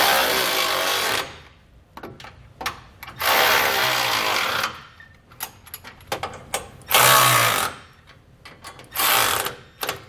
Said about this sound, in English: We can then go back and tighten down all of our hardware with an 18 millimeter socket.